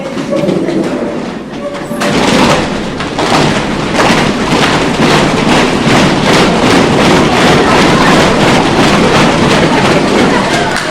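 An audience in a group activity session stamps feet on the floor in imitation of a train on a bridge, starting after a short pause and building into a loud, dense, continuous rumble of rapid thuds that holds steady to the end.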